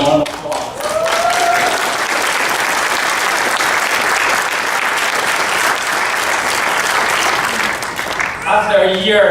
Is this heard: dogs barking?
no